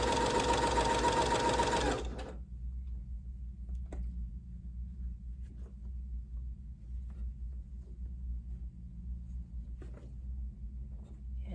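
A sewing machine runs a fast, loud burst of stitching across a fabric scrunchie for about two seconds, then stops, leaving a low steady hum with occasional faint clicks.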